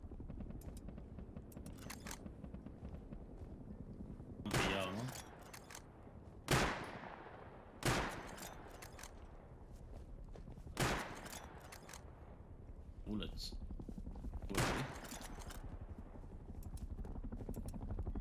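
Gunfire in the survival game Rust during a base raid: several separate loud cracks spaced a few seconds apart over a low steady background hum, some shots sharp and near, others shorter and lighter.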